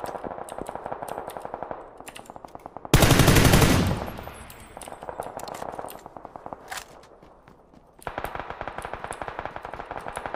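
Rapid automatic gunfire in PUBG, with steady bursts of evenly spaced shots through most of the stretch, a sudden loud blast of noise about a third of the way in, then the regular firing resumes.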